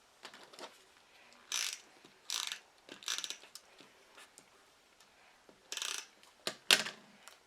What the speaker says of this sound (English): the Cricut does a pretty good job of generating those words